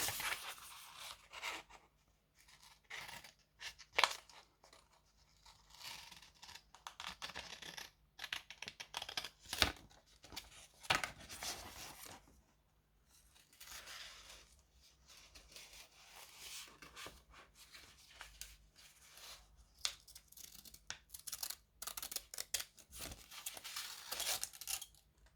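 Scissors cutting paper or card for a Halloween craft, quiet intermittent snips and rustling scattered across a low, faint background with frequent pauses.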